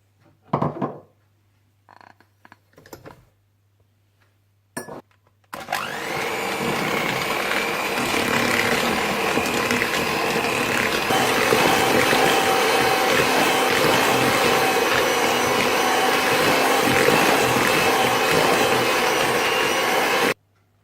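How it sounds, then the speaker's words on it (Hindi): Electric hand mixer beating butter with caster sugar and brown sugar for chocolate chip cookie dough, a steady loud whirring drone running continuously for about fifteen seconds after a few brief clicks and knocks at the start. "मक्खन को बीट करने के बाद आप इसमें कैस्टर शुगर और ब्राउन शुगर डालकर अच्छी तरह से बीट कर लें"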